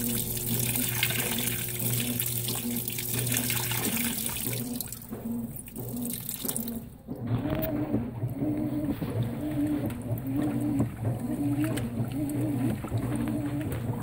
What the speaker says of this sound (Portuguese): A Vantage está enchendo de água.